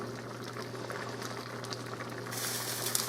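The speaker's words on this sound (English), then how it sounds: "Alright, it's boiling." Pasta and meat boiling in a pot, a steady close bubbling roil with a low hum underneath, the bubbling growing louder and more hissing toward the end.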